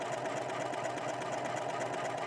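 A sewing machine runs steadily, stitching the left side of a wider, less dense buttonhole with the buttonhole foot, a continuous even mechanical hum with no pauses.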